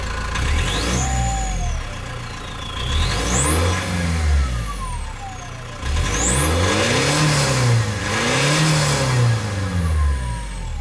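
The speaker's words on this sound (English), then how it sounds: "even though this is pretty much the worst model that you can get, the 2-liter diesel, it still sounds pretty good, and this is with the stock exhaust" A BMW E39 with the 2-liter diesel engine and stock exhaust revs repeatedly, rising and falling between idle and higher revs in several close, loud pulls, with no talking.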